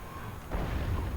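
Hell Cannon artillery in a fantasy strategy video game firing a deep, heavy boom that swells midway through amid rumbling battle noise.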